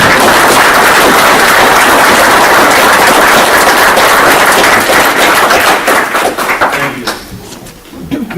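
Loud, dense round of applause from the room at a Vermilion County Board meeting, sustained clapping that tapers off and fades out near the end.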